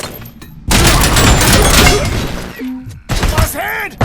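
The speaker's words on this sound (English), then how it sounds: "Grenade!" A grenade explosion in RoboCop: Rogue City, a sudden loud blast followed by a sustained rumbling roar, then clanking debris and a shorter burst near the end.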